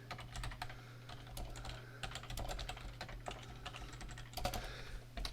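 Rapid, close typing on a computer keyboard, with a continuous run of crisp key clicks and a steady low hum underneath, and no talking.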